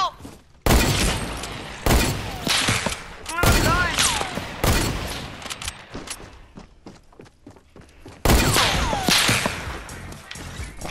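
Sharp, loud rifle cracks from a hunting rifle in the video game Fortnite, several well-spaced shots each trailing off into a short echoing tail.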